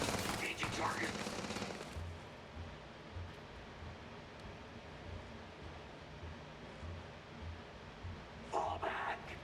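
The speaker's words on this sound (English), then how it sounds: "Opening fire. Engaging target." Gunfire in the Starfield video game, rapid bursts at the start and again near the end, with a low rumbling bed of combat noise between them.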